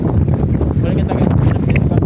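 Strong wind buffets the microphone on Mount Iraya in Batanes, a steady loud rumble and roar lasting throughout, with voices talking faintly underneath.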